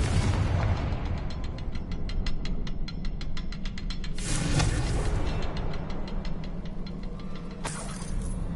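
A Confringo blasting spell in Hogwarts Legacy sets off a loud explosive burst over a rapid crackling, ticking magical effect, followed by further booming blasts, with no speech.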